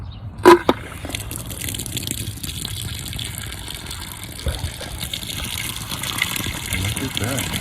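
Water gushes steadily from a newly turned-on outdoor sillcock spigot, a continuous broadband rush running the length of the clip after a brief sharp knock near the start, with a voice occasionally heard under it.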